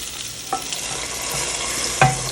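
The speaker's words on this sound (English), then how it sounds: "I'm gonna pour this all in." Meat and its fat poured into a pot for jambalaya sizzle loudly up close, with a steady frying hiss and brief clinks of a utensil against the pot.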